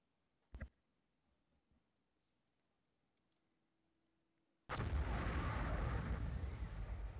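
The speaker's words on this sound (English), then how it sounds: "Lovely sound of an explosion." A loud explosion in the Evoland 2 video game bursts in after a quiet stretch of faint clicks and a brief sharp hit, then roars on as a sustained broadband rumble to the end.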